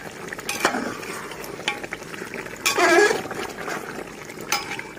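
Mutton pieces frying in oil in a pan, a soft steady sizzle broken by several scraping stirs and clinks of a spoon against the metal, heard up close without speech.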